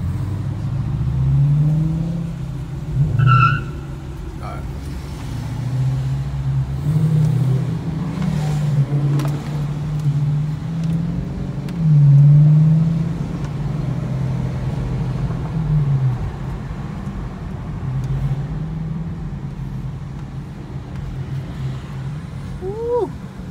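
A Dodge Hellcat's supercharged engine rumbles steadily inside a tunnel, its low roar swelling with occasional revs and carrying a faint supercharger whine, loud and close throughout.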